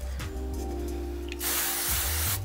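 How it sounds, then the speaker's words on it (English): An aerosol can hisses in a steady, close spray for about a second, following a low rumbling hum in the background, while styling hair set in vintage Clairol hot rollers. "I'm spraying literally my face."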